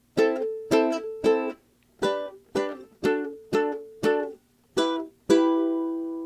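Plucked ukulele chords picked in a steady pattern, about ten separate notes-clusters, the last one left ringing out; no talking.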